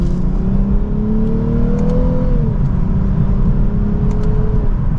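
A 2024 Lexus IS350 F Sport sedan accelerating hard in second gear, its engine note rising steadily and loud from inside the cabin before the pitch drops briefly at a shift and climbs again.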